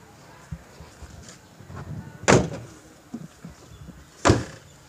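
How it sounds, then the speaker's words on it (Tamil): A Tata Vista car door shuts and locks twice, two sharp, loud thuds a couple of seconds apart over low background noise. "டோருடைய லாக்கிங் சவுண்டு கேட்குதா உங்களுக்கு?"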